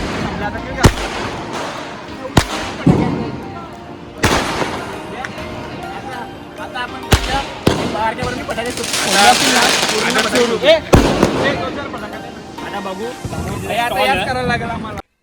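Handheld firecrackers bursting during Diwali celebrations: a series of loud, sharp, close bangs at irregular intervals, followed by a denser crackling burst and fizzing, with people talking and shouting between blasts.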